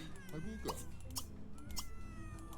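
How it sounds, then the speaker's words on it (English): A cat meows in The Sims 3 life-simulation game, a few short close meows with rising and falling pitch, set against steady game background sound. "The cat's still here."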